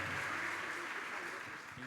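A church congregation applauding during a prayer gathering, a short steady burst of clapping with faint voices mixed in.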